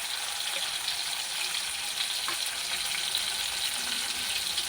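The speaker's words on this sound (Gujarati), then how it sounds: "હવે એમાં આપણે લસણ નાખી લીધું, લસણ નાખીને થોડું હલાવી નાખશું" Garlic frying in hot oil while being stirred, a steady close hiss of sizzling that holds evenly throughout with a few faint scraping touches and no voices.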